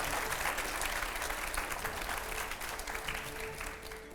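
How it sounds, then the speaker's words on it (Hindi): A studio audience at a televised Hindi political discussion with Chirag Paswan and editors bursts into loud, sustained applause, thick and continuous throughout before tapering slightly at the end. "एक बार ज़रा ज़ोरदार तालियां हो जाए"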